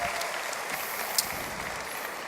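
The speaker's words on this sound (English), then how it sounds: "So give yourself a round of applause for being here." An audience at the OnePlus 6 launch event in India claps in a dense, sustained wash of applause, steady and full throughout.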